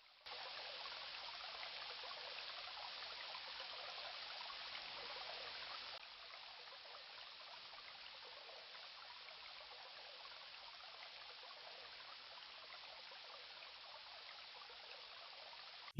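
A river runs steadily beneath a bridge in the video game King's Quest I, a soft, even stream of water trickling alone. The flow is a bit louder at first, then settles lower and continues unbroken.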